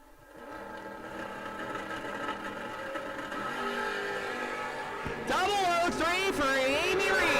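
A Valiant and a Camaro run at a no-box drag race, with engines idling and building into a loud rising roar as the cars launch, under a fast-talking announcer.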